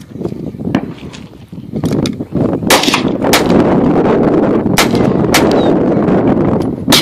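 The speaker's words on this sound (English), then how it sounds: "here's Emma shooting targets" Gunshots from a new gun fired at targets outdoors, sharp cracks at irregular intervals of about a second, loud and close over a steady rushing background.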